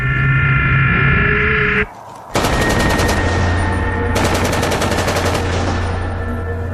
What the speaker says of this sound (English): just a loud machine gun burst, or a rifle burst